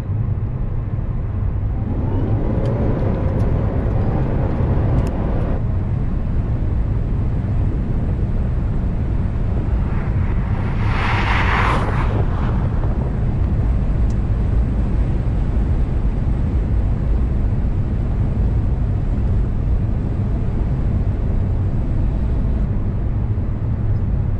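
An Abarth 500e electric car in Scorpion Track mode accelerates with a continuous low rumble of road and motor noise, broken by a short whooshing burst partway through, heard from inside the cabin.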